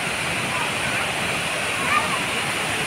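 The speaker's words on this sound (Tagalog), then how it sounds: "Ganda ng falls." A waterfall at Situbo Falls roars in a steady, dense broadband rush, loud and unbroken throughout with no pauses.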